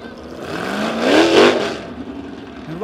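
Winged sprint cars roar around Springfield Raceway's dirt oval during an eight-lap heat race, engine pitch rising and falling as the pack passes nearby, loud and continuous.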